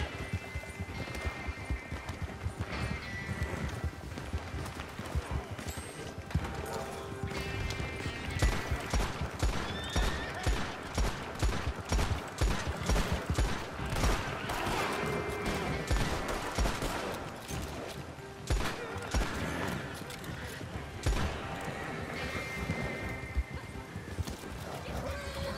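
Horse hooves in Red Dead Redemption 2, rapid clip-clop of galloping mixed with bursts of gunfire and occasional neighs, continuous and busy throughout, with a voice talking over it.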